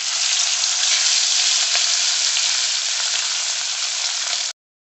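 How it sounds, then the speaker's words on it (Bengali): Spiced pomfret shallow-frying in hot white oil in a wok, giving a loud, steady, dense sizzle that continues unbroken before cutting off abruptly just before the end. "এবার আমরা মশলা মাখানো মাছগুলোকে এর মধ্যে শ্যালো ফ্রাই করে নেব।"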